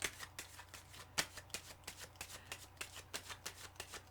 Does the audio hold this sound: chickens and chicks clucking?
no